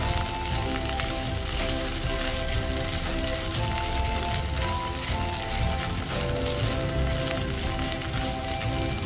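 Shrimp paste (terasi) and onions stir-frying in a pan, a steady dense sizzle and crackle running continuously and loud throughout, with a faint tonal hum underneath and no talking.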